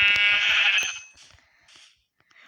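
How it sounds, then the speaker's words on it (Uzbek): Sheep bleating in Minecraft, one loud nasal bleat close by, followed by two fainter bleats trailing off into near silence. "Bu yerda qo'ylar ancha ko'p ekan-ku"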